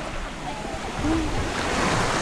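Sea waves at a beach wash in with a steady, close surf rush and wind buffeting the microphone, loud and unbroken, with a brief voice under it.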